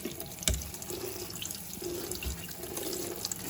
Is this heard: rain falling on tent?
no